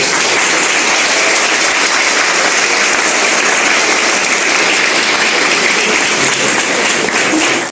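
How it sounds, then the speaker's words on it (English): Loud, sustained audience applause at a Save Soil event in a college hall, dense and even clapping from a large crowd that holds steady throughout and cuts off abruptly at the end. "Can we give a sinusoidal wave of applause for them starting from zero?"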